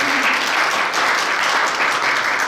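Audience at a regional science and technology forum on medical AI breaks into loud, sustained applause, a thick continuous roar of clapping from a large crowd.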